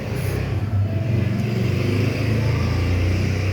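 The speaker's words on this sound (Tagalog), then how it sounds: "Sorry guys, ang ingay kasi may dumaan na sasakyan." A road vehicle passes outdoors at dusk. Its loud, steady engine rumble lasts several seconds, close and continuous, with no voices over it.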